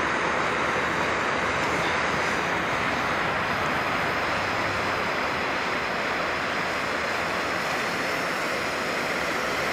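An Optimus Nova liquid-fuel stove fitted with a Dawg-A-Nova silent cap and a Bluewaterstove fuel line adapter burns with a steady, loud, broad roar that holds unbroken throughout.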